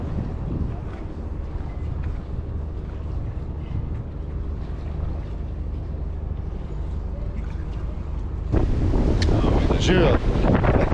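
Steady wind roars across the microphone aboard a sailboat under sail at sea near Ibiza in roughly 17 knots of wind, with water rushing along the hull and the gusts growing louder near the end.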